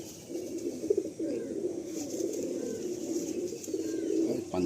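Madrasi pigeons coo in soft, repeated low warbling calls close by, a steady murmuring bubble of cooing that carries on throughout with no talking.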